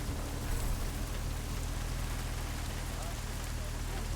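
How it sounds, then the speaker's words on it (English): Steady rain in Deus Ex: Human Revolution, a dense even hiss of falling water that runs unbroken through the whole stretch, with a low rumble underneath and no clear talk. "It's raining on you."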